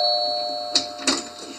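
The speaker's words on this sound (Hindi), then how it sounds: "तभी डोरबेल बजती है।" A doorbell chimes twice in quick succession, bright and clear over a steady electronic hum.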